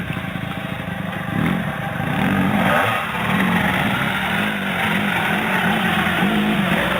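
A kid's dirt bike engine runs close by, a steady buzzing drone with slight swells in revs across several seconds. No one speaks.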